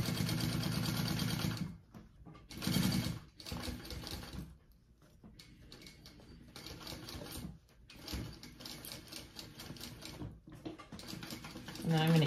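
A sewing machine stitches a seam on a handmade bag. It runs close and steady in several bursts, broken by short pauses and quieter handling between runs.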